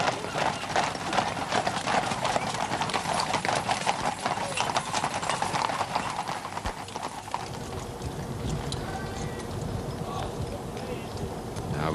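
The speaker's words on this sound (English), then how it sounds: "the carriage, which in this case is drawn by 4 bay horses from the Royal Mews" Hooves of four bay horses from the Royal Mews drawing a royal carriage in a 1969 investiture procession, a dense steady clip-clop over crowd noise, with a voice speaking.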